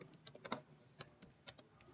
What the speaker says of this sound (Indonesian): Kita ketikkan grand replication.